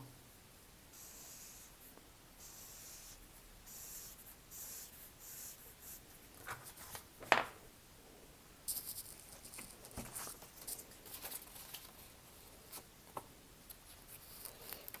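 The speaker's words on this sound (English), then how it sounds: "you can draw on some buttons and the black band." Faint, soft scratching of a pen drawing buttons and a band on paper, heard as quiet strokes spread across a hushed room, with one sharper tap partway through.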